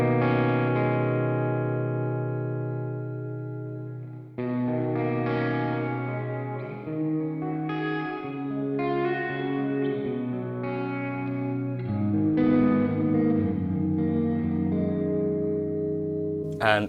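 Electric guitar notes and chords played through a ping-pong delay plugin, each phrase echoing and trailing off, sustained and fairly loud with no talking.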